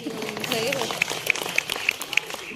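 Audience applause at a live stage show in Asansol, with a crowd clapping in a steady wash and a voice carrying over it.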